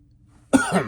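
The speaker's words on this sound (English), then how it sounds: "I'm getting the coughs here" A single short cough, close and fairly loud, breaks a near-silent moment.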